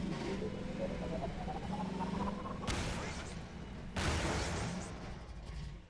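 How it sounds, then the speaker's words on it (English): A rising mechanical whine winds up as a gun charges in the video game Half-Life 2, broken by two sudden loud bursts of noisy blasts, with a speaking voice underneath. "The revving up of the gun."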